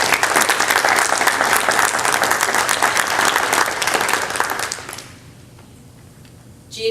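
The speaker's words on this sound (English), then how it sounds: "Let's give her a round of applause." A room full of people at a school board meeting applauds for about five seconds, loud and sustained, then fades into quiet murmur with a faint noise at the end.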